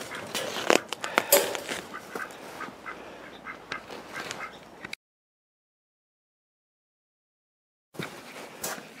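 Several ducks quack in a busy, overlapping clatter, fairly close, then the sound cuts out to silence before the quacking resumes briefly.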